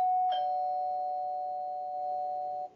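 A single doorbell chime rings out clearly on its own, a sustained electronic tone that holds steady for over two seconds before cutting off.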